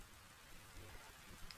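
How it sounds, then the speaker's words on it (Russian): Rain falling in the Minecraft video game, a faint, steady hiss of dense drops with no thunder or voices over it. "На улице пошел дождь."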